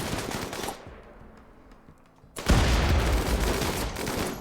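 Gunfire crackles in a Factioncide II battle, a dense burst up to about 0.8 seconds, then a quieter lull, then a loud sustained rattle of shots and booms from about 2.4 seconds to the end. No one speaks.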